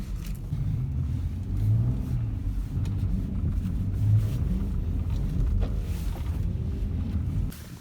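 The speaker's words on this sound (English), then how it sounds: "Let me know how y'all feeling about the drifting so far." Car drifting in a snowstorm, its engine rumbling and revving steadily up and down close by, with wind buffeting the microphone throughout and a brief drop near the end.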